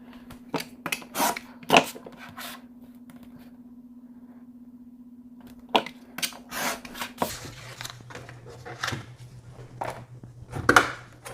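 Scissors snip through beer box cardboard in a run of short, crisp cuts, close and fairly quiet, with a pause in the middle before more cutting resumes over a faint steady hum.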